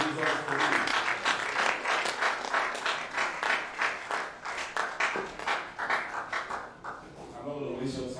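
An audience claps at a church-style cooperative business gathering, a brisk run of individual hand claps that swells and fades in bursts, fairly soft and close, with some voices mixed in.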